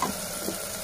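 Turmeric being stirred into a cooking pan for a sweet corn egg biryani, a short soft scrape and sizzle lasting under a second with no talk.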